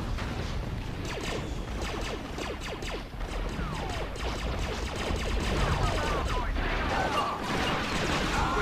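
Turret gunfire in the Star Wars Battlefront II Mustafar mission, a sustained barrage of rapid blaster shots and crashing impacts layered over a loud battle din.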